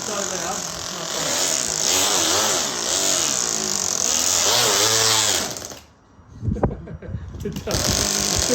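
An old car that has not run in about a year roars loudly with its exhaust coming off, a rough, rattling engine drone that dips briefly and revs back up while someone talks over it.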